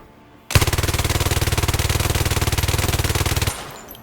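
A Vector submachine gun with a drum magazine fires one sustained full-auto burst of about three seconds in the VR shooter game Zero Caliber, a loud, rapid, evenly spaced stream of shots that stops abruptly.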